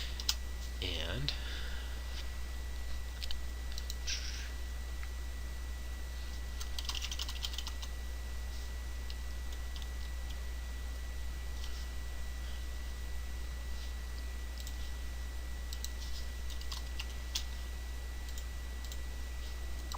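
Steady computer keyboard typing while signing in to Gmail, soft continuous key clicks under a constant low hum and faint hiss.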